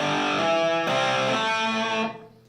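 Distorted electric guitar plays a metal lead figure, barred on the third and fourth strings with ring-finger hammer-ons, giving a loud, buzzing, sustained tone with a note change partway through before it rings out and fades.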